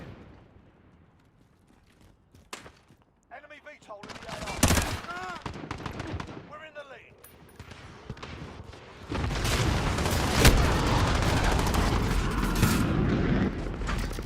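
Gunfire in a video game during a casual livestream, with bursts of shots and a loud, sustained rattle of continuous fire in the latter half, with some talk mixed in.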